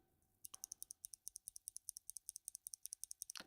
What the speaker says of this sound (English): But these are the clicky switches.